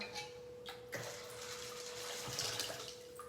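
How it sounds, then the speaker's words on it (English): Water pours into a Saladmaster cookware pot holding beans, a quiet steady splashing gurgle with a few small bumps and a faint constant tone underneath. "If I have a little bit more water, I'll dump more water."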